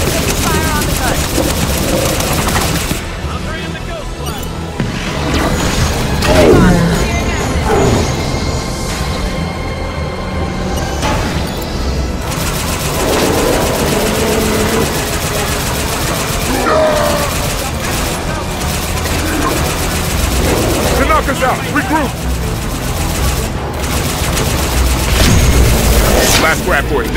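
Gunfire and heavy explosions in the Halo 5 campaign final mission, with repeated booms and bursts of fire running throughout under in-game voices and music.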